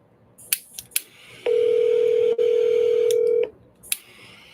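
A phone call being placed: a few short tap clicks, then a long steady dialing tone lasting about two seconds with a brief break, followed by more clicks, close and clear.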